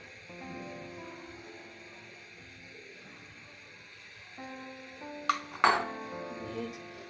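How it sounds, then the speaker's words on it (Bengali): A metal wok clanks down onto a stove burner with a sharp metallic clatter, following a quiet stretch of low humming background. "চুলায় একটা কড়াই বসিয়ে বাকি যে তেলটুকু ছিল সেটা দিয়ে দিব"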